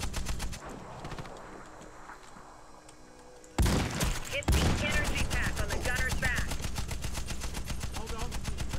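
Enemy automatic fire rattles in Warface, with rapid bursts of gunshots that rise louder and denser partway through and keep going in a steady stream, with someone speaking over the shooting.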